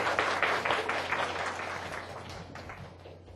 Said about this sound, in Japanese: じゃあ拍手でお迎えしましょう。